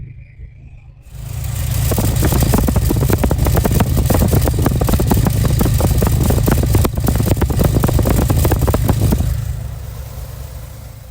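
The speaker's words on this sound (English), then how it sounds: "I think it's fair to say that engine's running really nicely" A 1964 Chevrolet Corvair Monza Spyder engine starts up and runs through its single exhaust at a steady, rumbling idle with a lumpy pulse, then fades out near the end.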